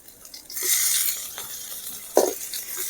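Hot oil bursts into a bright sizzle as ginger hits the pan, hissing steadily with a couple of clinks from stirring.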